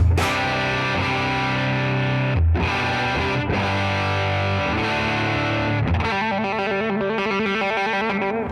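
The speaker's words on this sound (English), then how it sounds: "Let's get the Deluxe Reverb up to a point where it already is pretty much distorted with the humbucker." A heavily distorted electric guitar with a humbucker through a Fender Deluxe Reverb tube amp plays sustained, crunchy chords, then shifts to a choppy, rhythmic pattern, loud and continuous throughout.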